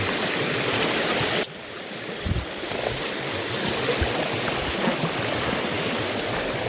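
A mountain stream rushes at a water crossing on the Appalachian Trail near US 58 outside Damascus, Virginia. The close, steady roar of flowing water fills the clip, with a brief dip in level early on and no talking.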